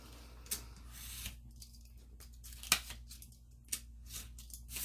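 Scissors cut through a file folder with a few sharp, quiet snips spread across a hushed room, separated by soft rustling of the card.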